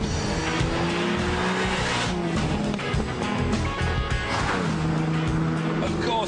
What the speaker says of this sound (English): I stepped straight from a Morris 1000 into a Ferrari Dino